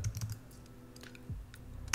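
A command is typed on a computer keyboard into a terminal during a Windows setup on a Mac. Quick, light key clicks come in short bursts, close and fairly quiet, with no one speaking.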